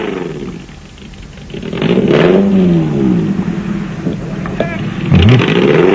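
An off-road race car with a gear selection problem, stuck on a course in South Africa, its engine revving up and down in loud, rising and falling surges with clattering, while a commentator talks over it.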